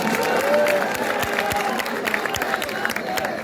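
A crowd cheers at an open-air political rally in Ulhasnagar, a dense, steady roar of many voices with whistles and scattered claps running throughout, close and loud.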